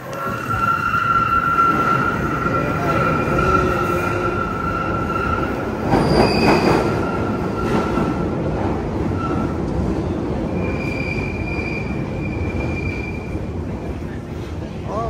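Passenger train pulling into a station platform, a loud sustained rumble with high wheel squeal and brake screech rising midway, over busy platform ambience with some background voices.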